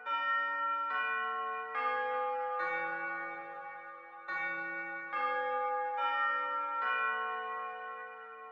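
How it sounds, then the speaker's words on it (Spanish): Bells of the Torre de los Ingleses clock tower in Buenos Aires ring out a slow Westminster chime melody, eight resonant tones with long ringing decay, clear and unaccompanied. "cada cuarto de hora hace sonar lo que se llama la melodía de Westminster"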